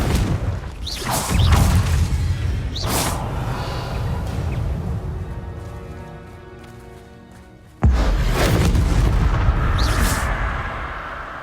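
Spell explosions in the video game Hogwarts Legacy: Bombarda and Confringo blasts erupt as two heavy booms, each followed by a long rumbling roar that fades between them, loud and dense.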